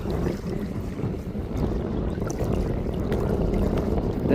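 A boat travels across open water near a bridge, giving a steady broadband rush of engine and water noise with wind buffeting the microphone, constant and close throughout.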